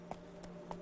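Three distinct hoof strikes from a horse in The Witcher 3, evenly spaced and fairly faint over a low steady hum.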